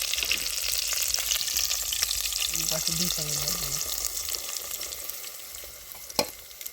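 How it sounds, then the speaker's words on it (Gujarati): Onions fry in hot oil with a dense, continuous close sizzle, while a voice speaks briefly in the middle and a single clink sounds near the end. "હાલો બસ હવે તેલ આવી ગયું છે. ડુંગળી બળવા માંડી."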